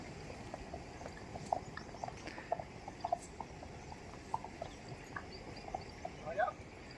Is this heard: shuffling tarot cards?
no